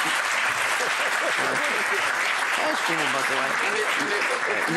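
Studio audience applause fills the room, steady and dense clapping from a crowd, with voices talking over it throughout.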